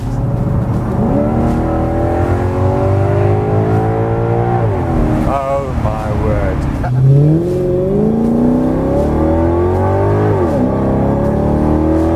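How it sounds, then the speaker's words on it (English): A deep, throaty Maserati V8 engine idles, then revs up and falls back, its pitch climbing and dropping; a voice exclaims briefly over the engine. "probably the best sounding V8 you can buy off the showroom floor"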